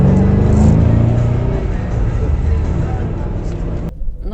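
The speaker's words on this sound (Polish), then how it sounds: "A my wsiadamy w nasze służbowe V8 i grzejemy do Mateusza po samochód" A V8 company car pulls away and picks up speed. Its engine rises to a loud, close roar, then settles into a steady drone before cutting off sharply near the end.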